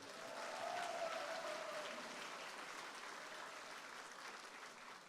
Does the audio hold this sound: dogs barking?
no